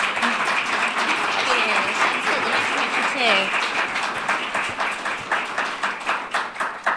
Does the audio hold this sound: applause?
yes